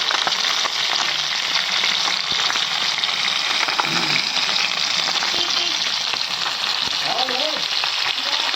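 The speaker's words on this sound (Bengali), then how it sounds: "লাল লাল করে মাছগুলো ভেজে নিয়েছি।" Fish sizzling steadily in hot oil in a pan, a dense, continuous crackle that stays even and close throughout with no pauses.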